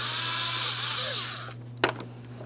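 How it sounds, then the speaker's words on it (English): On a 2005-2010 Chrysler 300 with a 5.7L V8, a power driver loosens the hose clamp at the throttle body in a loud whirring burst that stops abruptly, followed by a single sharp click. "We're just going to loosen the clamp. We'll slide this and put it over towards the side"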